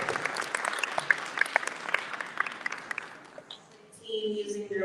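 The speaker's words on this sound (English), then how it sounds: "Just another round of applause." Applause from an audience at a Bangladesh Independence Day celebration at New York City Council, dense clapping that fades near the end as a voice begins to speak.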